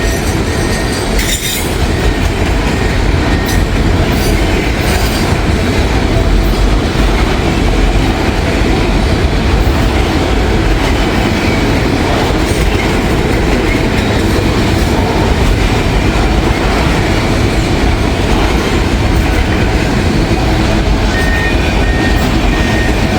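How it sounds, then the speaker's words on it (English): A long CSX freight train of loaded auto racks rumbles steadily past nearby in Vandalia, Ohio, with continuous rolling wheel noise, rattling cars and occasional metallic squeals. "The M276 is usually a long train."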